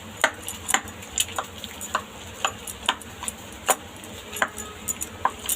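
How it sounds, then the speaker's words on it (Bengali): Boiled potatoes mashed with the back of a small glass while making Bengali egg devils, heard as a steady series of close, sharp taps and clinks against the bowl with a faint crackling bed, no talk. "এরকম ছোট্ট একটা গ্লাস নিয়ে এর পিছন দিয়েও ভালো করে ম্যাশ করে নিতে পারেন"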